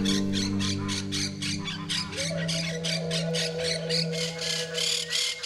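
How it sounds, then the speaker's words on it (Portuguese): Monk parakeets in a colony squawk continuously, a dense, rapid overlapping chorus of harsh calls close by, with a steady low hum underneath. "Habitando colônias com vários indivíduos aparentados, as catorritas se comunicam o tempo inteiro."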